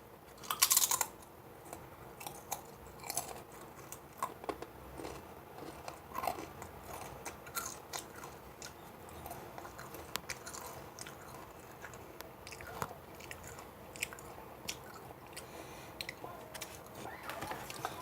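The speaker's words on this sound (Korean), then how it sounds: "생긴 건 그냥 감자칩 같이 생겼습니다. 한번 먹어보도록 하겠습니다." Crisp crunching bites and chewing of yogurt-flavored potato chips, close and fairly quiet, with irregular snaps and rustles throughout.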